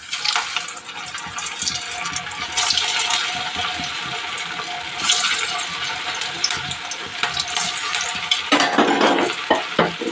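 Fish pakoda crackles and sizzles in hot oil with a bright, continuous frying hiss. Stirring clinks and bubbling bursts rise near the end.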